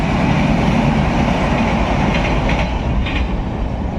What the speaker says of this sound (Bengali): এদিক থেকে এক্সপ্রেস ট্রেন ঢুকছে